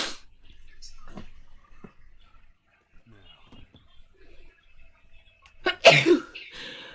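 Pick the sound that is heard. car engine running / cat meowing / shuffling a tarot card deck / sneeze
sneeze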